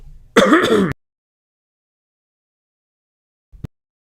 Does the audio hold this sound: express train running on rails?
no